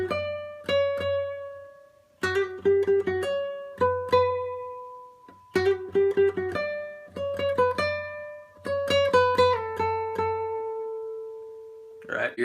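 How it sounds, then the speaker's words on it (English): Plucked guitar melody line, played alone in short phrases of clear picked notes with gaps between them, some notes ringing out and sustaining, close and moderately loud. "I'm going to move on to the melody line. And the first part of it sounds like this."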